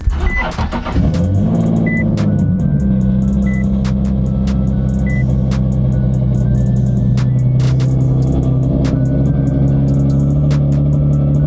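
Cold start of a Nissan 370Z engine: a cranking burst flares into a loud rev, then settles into a steady, deep, close idle rumble with occasional faint ticks.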